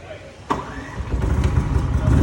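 A Bajaj 15 kW soundproof petrol portable generator is recoil-started with a sharp pull, then catches and settles into a steady running hum, close by and without talk.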